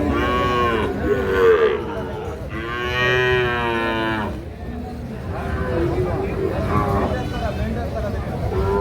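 Sahiwal bull calves at a busy cattle market in Kishoreganj bellow in several loud, drawn-out moos, close by, while people talk and bargain around them.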